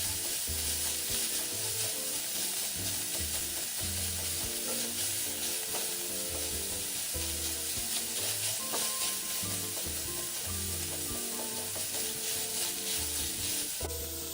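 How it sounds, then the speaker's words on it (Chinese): Minced pork or meat stir-fried in a pan, breaking apart with a constant loud sizzle and occasional stirring scrapes, accompanied by continuous background music. "将肉末炒散，炒至肉末颜色转白"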